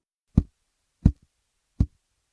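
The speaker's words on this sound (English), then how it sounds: "Just hold the phone on top of the melon and knock on it." Knocks on a whole watermelon to judge ripeness, with a smartphone resting on top of the melon: three separate hollow, dull thumps about 0.7 seconds apart, close and clear with silence between them.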